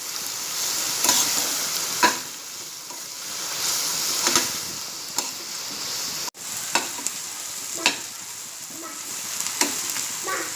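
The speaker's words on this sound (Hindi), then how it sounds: "प्याज अच्छी नरम होने तक मैं इसे तेल में तलूँगी।" Onions fry in oil until soft for a Konkani chutney, a steady close sizzle punctuated by intermittent spatula scrapes and taps against the pan, including one sharp knock midway.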